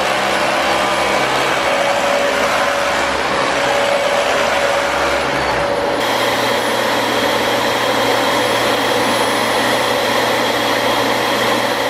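A loud canister vacuum cleaner whines continuously, its motor pitch shifting abruptly partway through, then carrying on steadily at close range.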